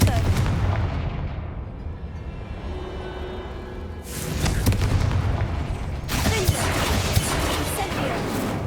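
A Confringo fire spell explodes in Hogwarts Legacy, a booming blast followed by crackling rumble and a second heavy burst, loud and close amid game background sound.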